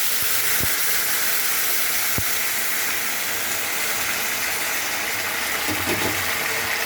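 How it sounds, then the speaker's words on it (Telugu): A steady loud hiss of boiled water hitting a hot pan of vermicelli continues throughout, with a couple of faint clicks and no voices. "వాటర్ వేస్తున్నాను."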